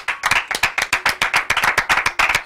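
An audience claps and applauds, a dense run of sharp, rhythmic hand claps close by that carries on steadily without talk over it.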